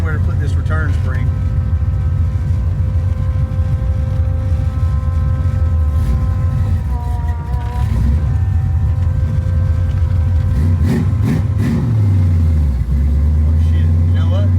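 A garage-built 1965 Fastback with a 347 engine revs hard at wide open throttle, a loud, steady, close roar that holds throughout with shifting pitch near the end, while someone talks over it.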